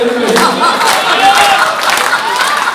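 Applause and crowd noise at a Holi comic poetry gathering (hasya kavi sammelan) in Jamshedpur, a steady wash of loud clapping from a large audience.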